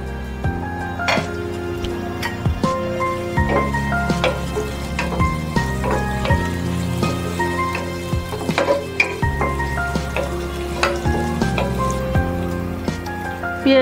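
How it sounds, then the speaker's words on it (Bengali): Chopped onion fries in a pan, a continuous soft sizzle running under repeated clinks and scrapes of a spatula stirring against the pan. "এখন আমি দিয়ে নিচ্ছি পেঁয়াজ কুচি পরিমাণ মতো, পেঁয়াজটা হালকা ব্রাউন হলে"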